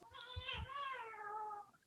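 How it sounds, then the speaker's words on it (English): Cats fighting outdoors, heard from indoors: a single drawn-out, wavering yowl rising then slowly falling, fairly faint and distant, with a couple of soft thumps near the start. "Can you hear those cats? They're fighting."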